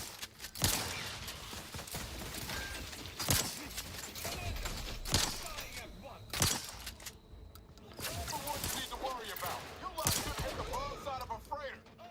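Turrets firing in The Outer Worlds 2, with irregular sharp bursts of shots punctuating a dense, busy combat mix of clatter and impacts over nearly the whole stretch, fairly loud and close.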